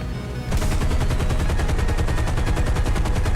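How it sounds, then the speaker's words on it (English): War Thunder aircraft machine guns fire one long sustained burst, pushed until the guns overheat: a loud, rapid, evenly spaced rattle that starts abruptly after a brief pause and keeps going without any voices. "we'll fire until the guns overheat"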